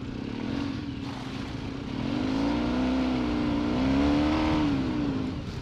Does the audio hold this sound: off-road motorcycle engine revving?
yes